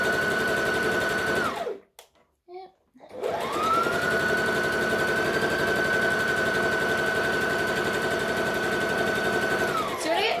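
A sewing machine stitches fabric at a long stitch length with a fast, loud, steady whirring hum, stops briefly for a few clicks during a back stitch, then runs evenly again for several seconds.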